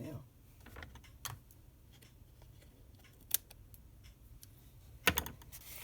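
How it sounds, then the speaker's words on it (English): A few quiet, separate snips of scissors trimming card stock for a textured handmade card, with small clicks and brief sharper cuts near the end. "I just had to give that a little trim"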